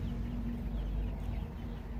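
Soft clucking from 60-day-old chickens at a poultry farm sits under a steady low hum, continuous and fairly faint, with no voices.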